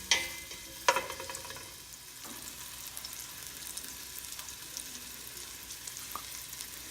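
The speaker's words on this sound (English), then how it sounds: "We're gonna saute this for 2 minutes." Ginger sizzles in a pan as it sautés for beef tinola, giving a soft, steady frying hiss with a few sharp stirring clicks near the start and occasional light scrapes.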